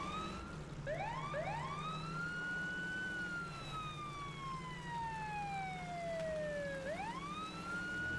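An electronic emergency siren beacon in the video game Crossout wails continuously, its pitch sweeping up, gliding slowly down, then rising again, loud and steady over a low engine hum.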